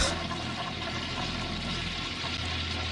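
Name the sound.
toilet flushing and pipes gurgling in music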